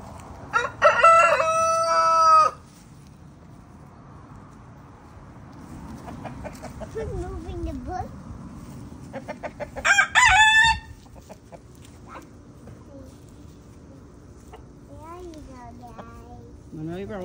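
A rooster crows loudly twice among chickens that cluck and murmur throughout, with a person's voice also heard in the background.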